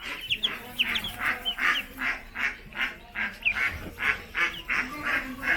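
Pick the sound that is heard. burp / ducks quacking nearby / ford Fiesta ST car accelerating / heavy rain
ducks quacking nearby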